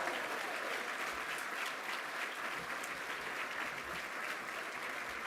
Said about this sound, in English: Now that deserves a big round of applause